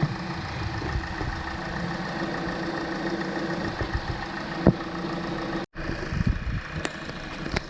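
A car engine idles under the open hood with its crankshaft turning, a steady close mechanical hum with a faint rhythmic knock throughout and a brief dropout near the end.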